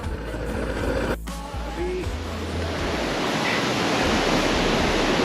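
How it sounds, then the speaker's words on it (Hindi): Water dripping heavily from above onto a mountain road, heard as a loud, steady rushing wash of water noise, close and continuous, with a brief sharp knock partway through and no talk. "ऊपर से पानी टपक रहा है काफ़ी"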